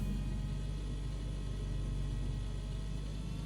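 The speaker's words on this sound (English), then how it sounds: "Engine runs down." Diamond DA50RD aircraft engine in a flight simulator running down after a test, a low steady rumbling drone, faint and continuous with no talk.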